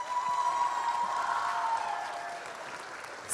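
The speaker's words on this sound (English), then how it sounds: "Give them another round of applause." An audience applauds after a school performance of Oz at Chandler Woods Charter Academy, with sustained, fairly dense clapping from a crowd that fades slightly toward the end.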